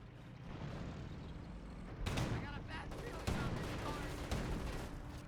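Greyhound armored car trading fire with an MG42 in the Company of Heroes battle game, bursts of gunfire and distant impacts over a low rumbling battlefield, with a few sharper shots standing out.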